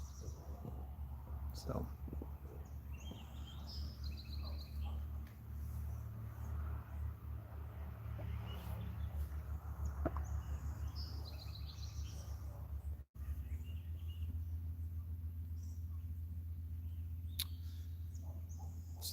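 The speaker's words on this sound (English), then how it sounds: "I'm just listening to the birds" Faint birds chirping intermittently outdoors over a low steady rumble, with a brief word spoken once.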